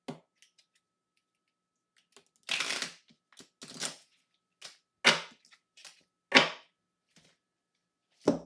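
A deck of tarot cards is shuffled nearby in short, separate bursts of riffling and snapping, with quiet pauses between the handfuls, and no voices.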